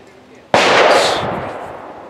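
A single loud shot from a Ruger Wrangler cowboy-style revolver at a shooting range: a sharp, sudden crack followed by a long, gradually fading ring-out.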